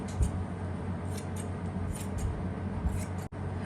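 Scissors snipping through cloth to shape a lace neck design, a run of close, steady cutting sounds with small crisp clicks of the blades and no talking.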